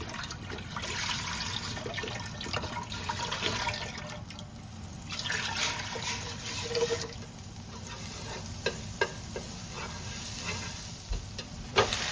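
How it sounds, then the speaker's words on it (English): Steady sizzling of young rapini stir-frying in a hot pan, a continuous hiss broken now and then by light clatters. "So we're stir frying the young rapini."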